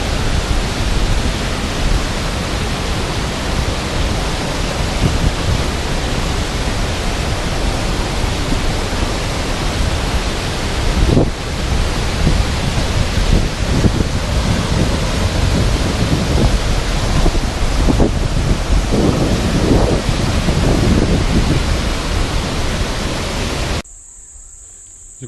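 A waterfall with a strong flow pouring into a natural pool gives a loud, unbroken close-up roar of rushing water that stops abruptly just before the end.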